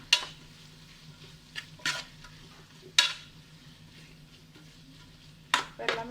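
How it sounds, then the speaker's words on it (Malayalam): Spaghetti noodles and cooked vegetables get tossed in a hot pan with a spatula, giving a faint steady sizzle broken by a few sharp scraping strokes against the pan, with no talking. "ഇനി ഇത് നല്ലപോലെ ഒന്ന് മിക്സ് ചെയ്തെടുക്കുക."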